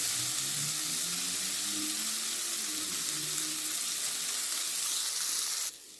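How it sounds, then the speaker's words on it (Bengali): Steady loud sizzling of masoor lentils lightly frying in a pan, continuous and close, cutting off abruptly near the end. "এটাকে বেশি ভাজার দরকার নেই, অল্প একটু আমি হালকা ভেজে নিলাম।"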